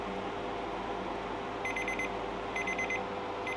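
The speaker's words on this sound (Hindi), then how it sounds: "टाइमर तो हमारा हो गया कि 2 मिनट हो गए" A kitchen timer goes off after two minutes, its beeping alarm repeating in short bursts over steady background noise, moderately loud and with no talking.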